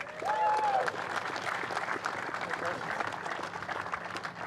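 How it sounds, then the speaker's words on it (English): Crowd applause at a motor race podium ceremony at Highlands Motorsport Park, steady distant clapping throughout with a brief tonal sound near the start. "be equally generous in your applause for Jin Nakamura"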